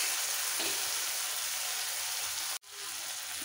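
Ginger, garlic and green chili paste sizzles and fries steadily in a pan, a loud continuous crackling hiss that cuts out sharply for an instant near the end before resuming.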